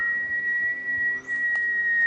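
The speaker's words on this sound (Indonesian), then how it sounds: "Kalian denger gak suara siulan itu? Ya denger lah. Suara siulan itu kan kencang sekali." A single high whistle holds one steady pitch without a break for about two seconds, fairly quiet over a faint background, in an animated children's story.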